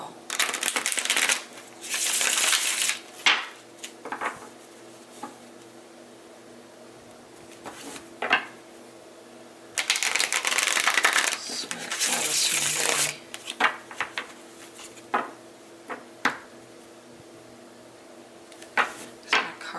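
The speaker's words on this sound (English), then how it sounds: "I'm going to shuffle these two because these have been bothering me for a while as well" Tarot cards being shuffled by hand, with two long riffling bursts and scattered soft taps and slides of the deck between them, close and fairly loud against a quiet room.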